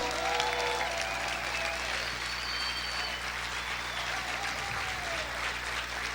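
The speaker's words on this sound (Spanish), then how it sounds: "aplaude fuerte al Señor" A church congregation applauds the Lord during a sermon on being freed from poverty, a steady wash of clapping that runs the whole stretch at moderate level, with a low hum beneath and faint voices briefly rising.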